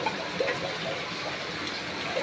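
A little water is poured into masala frying in a pan for an okra masala fry, giving a short, close gush and hiss that lasts about two seconds.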